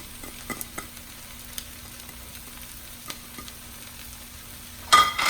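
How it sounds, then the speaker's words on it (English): Fried rice with green onions and sausages is stirred over high heat. A low sizzle carries scattered light clicks and taps, then a louder burst of clattering stirring comes near the end. "Give this a good stir."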